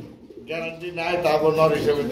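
Pigeons at a pigeon market coo in low, rolling bursts close by, overlapping someone talking throughout.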